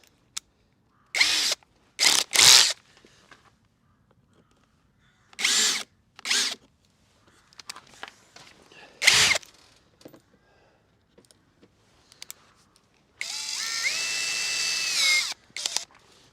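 A power drill fitted with a countersink bit sounds in short, sharp bursts spread across the stretch, with gaps of near silence between them and one longer, steadier run of whirring near the end.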